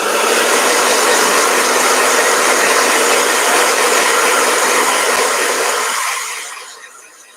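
A blow dryer runs at a loud, steady broadband whoosh close by and then shuts off, its rush fading out over the last second.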